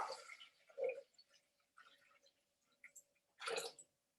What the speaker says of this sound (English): I'm just going to pour in water up to the 1 litre mark like it asked me a moment ago